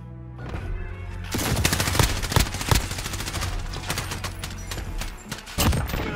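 Rapid bursts of automatic and single gunfire from a Call of Duty match crack out in dense, loud volleys, with heavy impacts scattered across the stretch and little talk over it.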